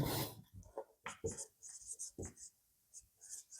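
Marker or chalk scratching out the symbol m on a classroom board, a series of short squeaky strokes in quick bursts, close and fairly clear, with no talk over it.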